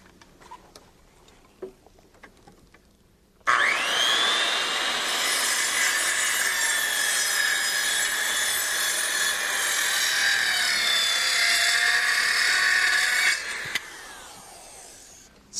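A power saw cutting a 22.5 degree miter through wood for deck building spins up abruptly after a quiet start, then holds a loud, steady buzzing cut for about ten seconds before stopping sharply.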